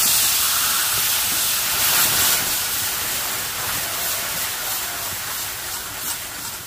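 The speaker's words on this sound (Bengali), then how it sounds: "ক্যারামেলের মধ্যে অল্প অল্প করে এবার দুধটা দিয়ে দেবো।" Milk poured a little at a time into hot sugar caramel in a wok, a loud, steady steamy hiss that starts strong and slowly eases, with no talking.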